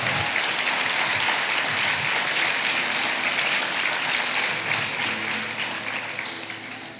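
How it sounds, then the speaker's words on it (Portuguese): Congregation at a church service claps together in a dense, sustained round of applause that stays loud and steady, then gradually tapers off toward the end. "Olha eu aí, aplauda ao Senhor."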